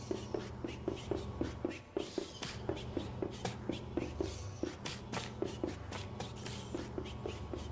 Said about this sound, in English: Listen to Woodleg's feet on the ground.